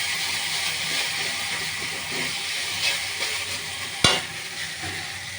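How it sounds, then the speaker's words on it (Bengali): A steel spatula stirs chicken masala in a pan, a soft continuous sizzle and scraping with one sharp metallic clack near the end. "নাড়াচাড়া করতে স্টিলের এই খুন্তিই সুন্দর হয়।"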